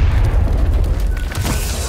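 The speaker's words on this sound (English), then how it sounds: "We've sent you a drop bomb!" Deep, loud rumbling boom of a bomb drop explosion in the Star Wars Battlefront game, a sustained heavy low roar filling the whole two seconds.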